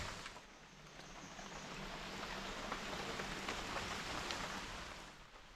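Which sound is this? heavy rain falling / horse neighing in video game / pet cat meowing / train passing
heavy rain falling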